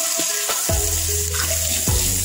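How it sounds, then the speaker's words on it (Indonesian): Sliced shallots frying in melted fat for a traditional Indonesian bingkang cake, a steady close sizzle with a few sharp crackles and stirring clatters and no talk. "masukkan bawang goreng tadi, bawang yang udah diiris. Kita masak seperti bawang goreng biasa"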